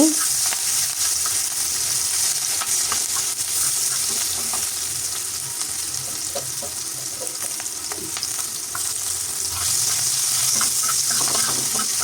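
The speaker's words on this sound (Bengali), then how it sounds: "কাটা পেঁয়াজ কাঁচামরিচ দিয়ে দিচ্ছি এগুলো একটু ভেজে" Chopped onions and green chilies frying in oil in a pan, a loud, steady sizzle with occasional stirring scrapes running throughout.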